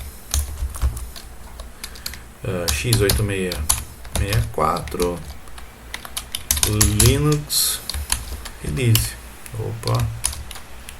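Typing on a computer keyboard, brisk key clicks scattered throughout while someone speaks over them for most of the time.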